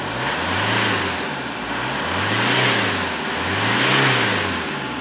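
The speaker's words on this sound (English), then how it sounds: "Give the car a quick rev." A 2001 Citroen Xsara engine revs three times in a row, each rise and fall in pitch clear and close, with no talk.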